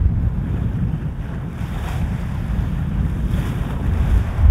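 A J109 sailboat racing offshore in the RORC Morgan Cup, with continuous rushing waves and hull wash mixed with heavy wind buffeting on the microphone and no talk.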